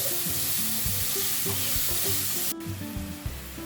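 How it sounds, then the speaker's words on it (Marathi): Pieces of ripe banana are stirred and sautéed in a pan with raisins for sheera, making a continuous close sizzle with stirring scrapes, accompanied by background music. "याच्यामध्ये एक केळं चांगलं पिकलेलं ते पण कट करून घ्यायचं आणि हे पण चांगलं परतून घ्यायचं"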